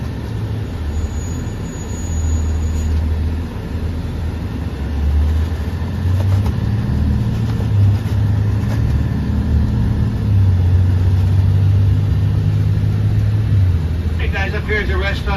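Tour bus driving through the Gettysburg battlefield, a steady low engine drone with gear shifts and rising pitch, heard from inside at moderate loudness, with a guide talking over it.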